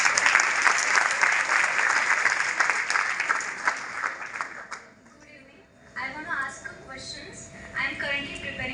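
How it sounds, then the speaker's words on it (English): An audience claps steadily and loudly for about five seconds at a hosted Q&A event, then the applause fades into quieter room noise with a few voices and light murmuring. "Clap for her."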